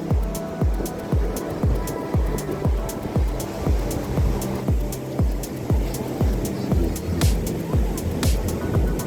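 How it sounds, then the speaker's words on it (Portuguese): Surf rolls in steadily at the Barra da Tijuca beach breakwater in Rio de Janeiro. The wash is close and continuous, with waves breaking in a regular rhythm. "no Quebra-Mar aqui da Praia da Barra da Tijuca"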